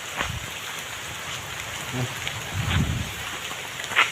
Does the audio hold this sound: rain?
yes